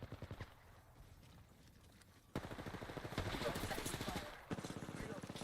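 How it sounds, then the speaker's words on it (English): Automatic gunfire in the video game Apex Legends, rapid rhythmic bursts at moderate level with brief pauses, under game voice lines and speech. "They're shooting at me."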